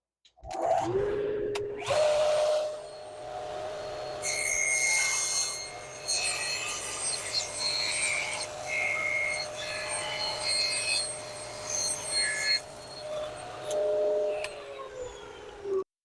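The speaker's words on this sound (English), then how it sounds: "Now I'm going to trim and this will bring us to the final dimension of the board." A power tool trims a wooden cutting board to its final size, giving a steady motorized whine with a rough cutting rasp that rises and falls as the blade works along the edge, close and loud, then winds down.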